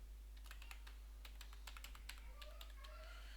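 Computer keyboard typing at a desk, a quick run of light, crisp key clicks close by with no voices, over a steady low hum.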